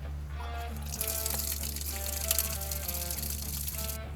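Cleaning solution runs steadily out of the ball valves of a stainless steel fermenter, a continuous rushing splash over a low droning hum, with no talk.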